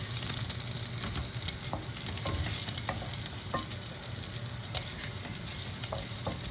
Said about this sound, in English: because I'm frying the tomatoes that I've sliced up